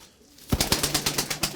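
Pigeons in a Turkish fancier's loft, a short run of wing claps and rhythmic cooing pulses coming close and clear after a brief quiet start.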